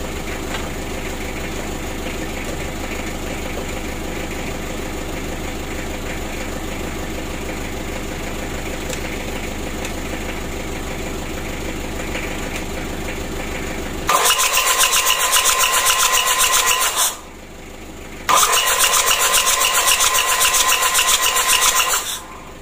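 An Isuzu Elf NKR 71 engine under assembly, with its cover bolts removed, cranked on the starter to bring up oil: a steady background hum, then two loud, harsh cranking bursts separated by a short pause.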